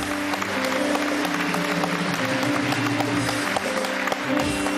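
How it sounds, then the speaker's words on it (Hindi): A studio audience at a Pakistani TV game show breaks into sustained applause, loud and dense throughout, with steady tonal music-like lines running underneath. "बहुत सारी तालियां भाई, जवान।"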